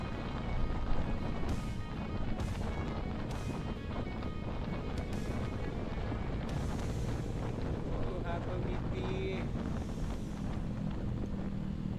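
Loud, buffeting wind rushes over the microphone during a group motorcycle ride on a mountain highway, a constant roaring blast mixed with engine rumble, with a voice talking briefly over it.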